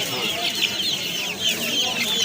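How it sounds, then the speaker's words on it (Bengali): Brahma chickens cluck softly amid a busy, noisy background at a crowded bird market in Khalishpur, Khulna, with no one speaking. "ব্রাহ্মা একটা মোরগ আর দুটো মুরগি"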